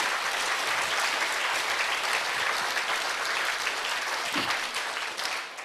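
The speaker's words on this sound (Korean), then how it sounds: "박수로 주님 경안 돌립니다." Church congregation applauding during a Korean sermon, a dense steady clapping of many hands that carries on throughout and thins slightly at the end.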